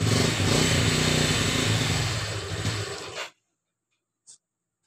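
A Yamaha Mio J scooter engine revs loudly and steadily while the throttle is held open, then cuts off abruptly, followed by a brief faint click.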